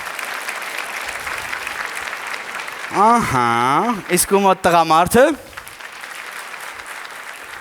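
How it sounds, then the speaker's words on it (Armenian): A stand-up comedy audience breaks into sustained applause that runs under the comedian's voice, with clapping continuing steadily throughout while he speaks. "ծափահարեք խնդրեմ"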